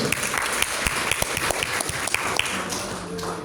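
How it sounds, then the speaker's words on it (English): Audience applause after a debate round in a qualification stage, with close, brisk clapping from a modest group, sharp individual claps punctuating a continuous patter throughout. "Give applause to second page."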